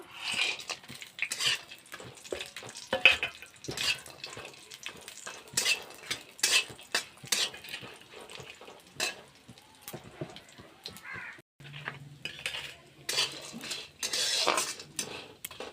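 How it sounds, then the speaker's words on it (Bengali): Lentil dumplings (bori) fry in hot mustard oil while a metal spatula stirs them in a pan, making repeated scraping clinks and taps over a faint sizzle, close and fairly quiet. "তেলটা গরম হয়ে গেছে, আমি বড়িগুলো ভেজে উঠিয়ে নেব।"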